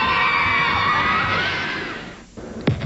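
Person screaming in a TV commercial, a long sustained high-pitched wail that fades out, followed by a brief pause and a short sharp sound, loud and close.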